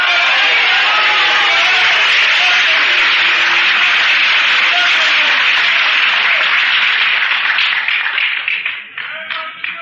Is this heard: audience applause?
yes